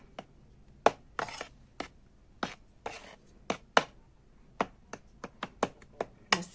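A spoon stirs cumin and salt into flour in a bowl, making a quiet, irregular series of sharp taps and scrapes close up, with no talk.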